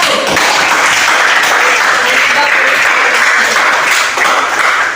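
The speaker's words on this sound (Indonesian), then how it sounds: "Sekarang coba tepuk tangan dulu untuk kelompok 1" A classroom of students applauds for group 1 during a school lesson, dense steady clapping that stays loud and continuous throughout.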